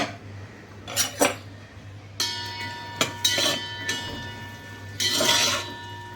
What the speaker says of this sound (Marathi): ड्रायफ्रूट्स तुपामध्ये तळताना ते असे सतत परतत राहावेत